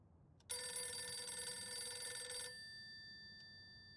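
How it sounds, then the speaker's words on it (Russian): A single loud, close telephone ring, about two seconds long with a bright metallic bell tone, sounds in the NKVD Archives video game before fading into quiet room tone. "Штандартенфюрер Майер, звонят с почты"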